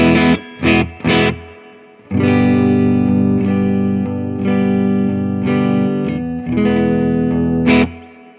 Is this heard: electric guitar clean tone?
yes